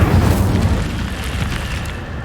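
An Incendio fire spell in Hogwarts Legacy erupts as a loud, deep whooshing burst of flame that slowly tapers off over about two seconds.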